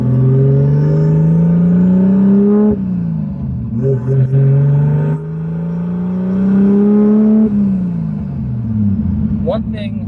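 A turbocharged drift car running 23 pounds of boost pulls hard through the gears, its engine note climbing steadily, dropping at a shift, then rising again, loud and close from inside the cabin.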